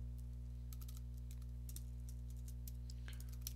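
Someone types on a computer keyboard while searching for a function in Excel. Scattered, fairly quick keystrokes click over a steady low electrical hum with no voices.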